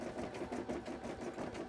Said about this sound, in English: I love having the embroidery machine on in the background.